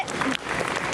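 Short stretch of applause from a convention audience for a cosplayer at a masquerade, steady clapping with crowd murmur and a voice nearby.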